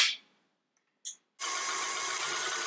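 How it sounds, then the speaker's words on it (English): Stand mixer with a whisk attachment beating egg yolks, starting after a brief click and rising into a steady, loud, whirring hum that continues to the end. "I'm using my stand mixer today."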